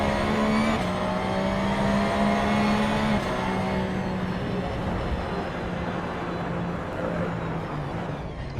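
Gulf-livery Porsche race car at Le Mans in Gran Turismo, its engine droning steadily with a sustained tone that dips and shifts as it drives on, continuous and close with no talking.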